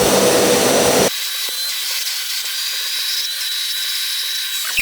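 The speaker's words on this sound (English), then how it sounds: "So I'm just going to take this vacuum right here." A vacuum cleaner used on coffee-stained denim blasts loudly for about a second, then cuts off abruptly, leaving a quiet room with a faint lingering whine.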